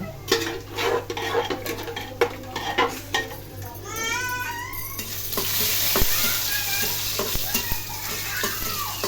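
Dal tempering is fried and stirred in a home kitchen pan: a spoon clatters and scrapes against the metal in quick strokes, then a loud burst of sizzling rises midway and continues as a steady hiss under occasional clinks.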